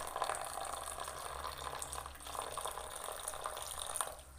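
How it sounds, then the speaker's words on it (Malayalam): Strained jaggery syrup pours into a rice, coconut, cumin and cardamom batter for kalathappam, a soft continuous liquid trickle with faint splashy bursts, quiet and close. "കുറച്ച് ശർക്കര അങ്ങ് ഒഴിക്കുവാണേ."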